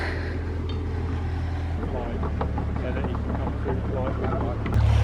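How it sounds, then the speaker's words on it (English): Water rushes into a canal lock as the paddles are raised beside a narrowboat, a steady broad roar and churn with a low rumble underneath that grows louder toward the end. "Paddle up, water coming in."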